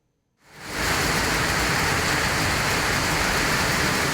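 Heavy rain pours down steadily in Chengalpattu district, Tamil Nadu, a dense, loud, unbroken hiss of downpour that swells in quickly and holds constant with no voices.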